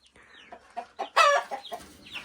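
Crested and ordinary domestic hens and a rooster cluck in short, scattered calls, with one louder squawking burst in the middle, fairly close and with no talk.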